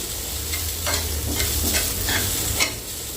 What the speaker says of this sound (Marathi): आता यामध्ये खोबरं टाकते तुपामध्ये छान हे ओलं खोबरं आहे ना तर थोडंसं परतून घेते